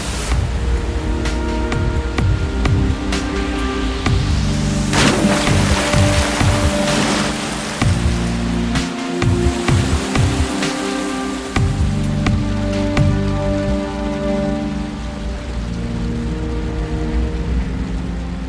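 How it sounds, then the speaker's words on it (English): Gushing rapids on the Kali river produce a loud, dense rush of churning water, with broad hissing spray and low rumble throughout. Layered musical tones sound alongside, and no voices are heard. "The gushing rapids make for one of the best rafting experiences down south."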